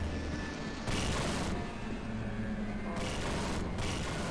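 Gunfire in the shooter Half-Life: Opposing Force, with loud bursts of shots and booms over a constant rumbling game background, coming in two clusters.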